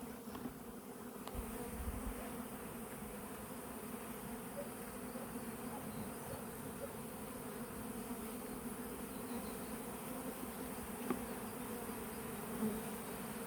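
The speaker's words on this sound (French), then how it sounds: "Ah, les abeilles qui tournent autour de moi, elles sont blanches." Steady insect buzzing fills the air, a dense continuous drone of many honeybees close by around a hive, with no voices.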